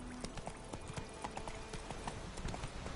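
Hooves of Roach, Geralt's horse in The Witcher 3, clip-clop in a steady, quick galloping rhythm throughout, close and clear over a faint game soundscape.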